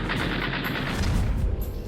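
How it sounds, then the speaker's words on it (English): Loud, dense burst of gunfire from a P-38 Lightning's nose-mounted .50-caliber machine guns and 20 mm cannon, a continuous rattling roar of overlapping shots with heavy low booms, lasting nearly two seconds without voices. "they were able to put the 4 machine guns, 50 calibers, in the nose along with a 20 millimeter."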